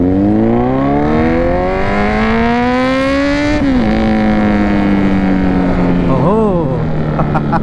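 A superbike engine revved with the throttle, a loud close roar rising in pitch, easing off, then a sharp blip of revs near the end, with no talk over it.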